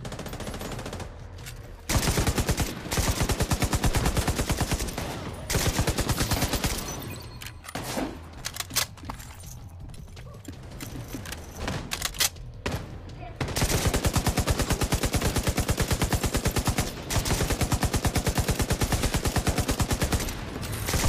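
Gunfire in The Division 2, long loud bursts of automatic fire in several stretches broken by short gaps and single shots, close and dominant throughout.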